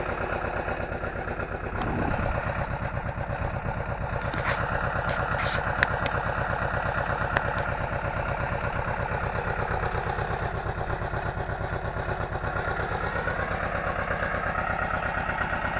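Steady, chugging rumble of a tractor engine pulling a tooth harrow across damp ploughed virgin land, working under load, close and continuous, with a couple of faint metallic clinks.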